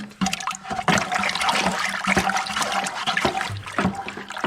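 Water churned in a bucket while calcium nitrate is stirred in for tomato plants, a steady sloshing and swirling with small clunks and splashes, close and continuous with no talking.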